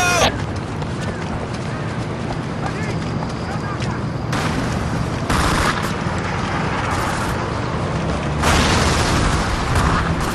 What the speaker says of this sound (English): Take cover, Captain! That charge is set to explode!